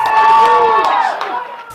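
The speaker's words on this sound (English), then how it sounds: "and the crowds cheered" A crowd cheers and shouts loudly at a youth baseball game at the El Paso County Sports Park, a close, sustained burst of excited voices that tapers off.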